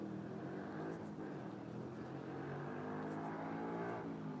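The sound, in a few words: motorbike engine revving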